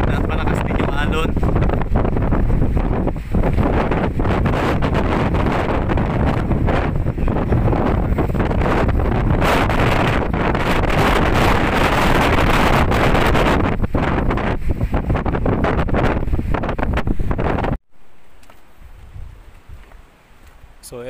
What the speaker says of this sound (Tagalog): Yung sobrang lakas ng hangin at malakas din yung alon.